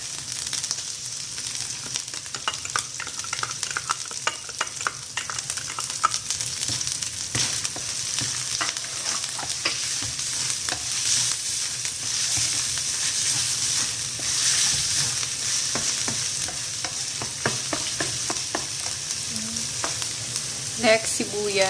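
Garlic frying in a pan sends up a steady, dense sizzle that stays loud and even throughout, with faint crackles and pops scattered across it and no voices.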